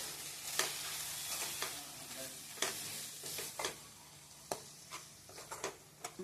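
Dried prawns fried with tender tamarind leaves, cumin powder, coriander powder and curry leaves are mixed in a pan. Quiet, close spatula scrapes and taps land at an uneven pace over a soft continuous sizzle.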